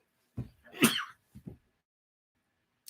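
A single sharp sneeze bursts out fairly close, with a short breathy intake before it and a couple of small throat noises after, then near silence.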